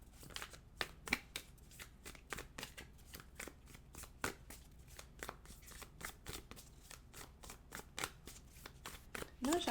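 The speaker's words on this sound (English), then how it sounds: "I'm going to shuffle a couple of times and we'll see if any cards jump out" A tarot deck is shuffled by hand in a steady run of crisp riffling bursts, close and clear over a quiet room, with no talking.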